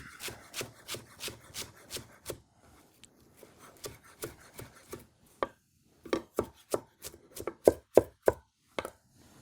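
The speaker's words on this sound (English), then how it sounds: "We're going to give this a rough chop." A knife rough-chops roasted Fresno peppers on a cutting board, with rapid rhythmic chops, a brief quieter pause, then a louder, crisper burst of chopping near the end.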